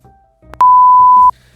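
A single electronic phone call tone sounds, a loud sustained beep lasting under a second after a couple of short clicks, alone with no voices.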